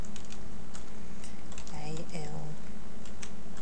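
Quick clicking keystrokes on a computer keyboard tap out in irregular bursts, with a voice talking briefly partway through.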